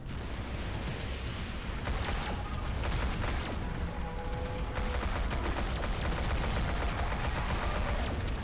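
Gunfire in the sci-fi shooter game Shadowgun Legends, continuous dense rattling shots and blasts layered over a loud, constant roar of game sound with no break.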